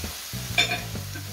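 Spicy bamboo shoots with pork neck being stir-fried in a pan, with a low steady sizzle broken by a few short clattering scrapes of the spatula.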